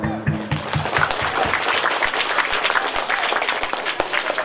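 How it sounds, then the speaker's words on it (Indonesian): Audience applause at a Maulid Rasul religious gathering at an Islamic boarding school in Aceh, a dense, steady wash of many hands clapping close by for several seconds, with a few low voices underneath at the start. "Tepuk tangan."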